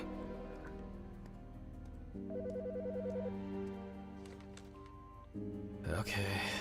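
A phone rings in the Autopsy Simulator game, a sustained electronic ringtone with shifting tones over a low background hum, followed at the end by a brief burst of other sound.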